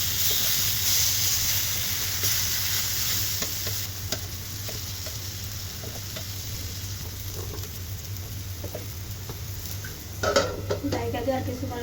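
Pumpkin pieces frying in a pan hiss steadily while a utensil scrapes and clinks against the metal as they are turned, with a louder burst of sizzle and clatter near the end; a voice is faintly present.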